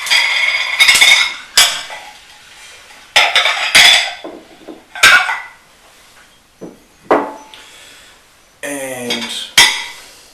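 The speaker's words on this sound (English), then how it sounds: "So I'm going to grab a couple of plates." Ceramic plates and cutlery clink and clatter loudly up close as a couple of plates are grabbed, several bright ringing knocks in bursts with short pauses between.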